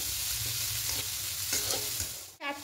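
A sweet coconut filling is stirred without pause in a pan, giving a soft continuous sizzle overlaid with rhythmic scraping and brushing strokes, followed by a brief dull clunk at the very end; no speech.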